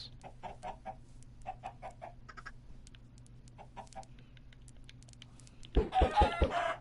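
Minecraft chickens cluck in short repeated bursts, faint and scattered over a steady low game hum, then a louder close flurry of sound near the end.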